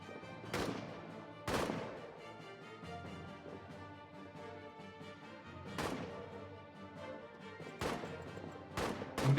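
Rifle and machine-gun fire rings out across a World War I trench battle in All Quiet in the Trenches, with sharp shots cracking at irregular intervals over a steady low background of combat noise.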